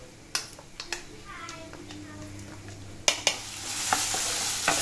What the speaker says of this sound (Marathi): तर आपण कांद्यामध्ये हा घालायचा आहे, व्यवस्थित हलवून घ्यायचा छान.